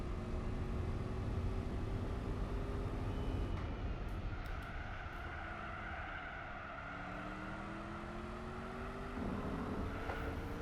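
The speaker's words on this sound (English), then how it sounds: "the car sounds themselves, I think they're fine." Car engines in the racing game Gran Turismo 4 drone steadily, with engine pitch climbing and falling through gear changes and a continuous roar under no talk.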